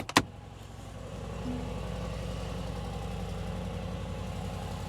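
A deep, steady V8 idle from a 2025 Mercedes-AMG G63 with side exit pipes rumbles evenly after a short sharp knock at the start, heard from outside, the pulsing burble holding constant throughout with no voices.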